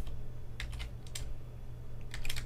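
Code is typed on a computer keyboard in short bursts of quick key clicks, a few keystrokes at a time with pauses between, fairly close under a low steady hum.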